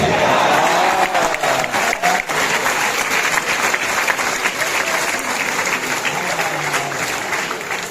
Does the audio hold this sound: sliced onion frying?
no